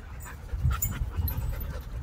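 A dog pants close by in a steady rhythm of quick breaths, with a few louder bursts and faint background sounds but no talk.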